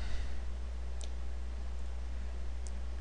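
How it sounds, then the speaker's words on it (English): Two faint, sharp computer mouse clicks about one and a half seconds apart over a steady background hum. "Click."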